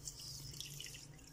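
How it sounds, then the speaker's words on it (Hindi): Milk is poured into a mixture of sugar and egg while making Makhandi halwa at home, a steady, soft liquid pour running continuously without a break, with no talking. "तो अब इसमें डाल देंगे दूध"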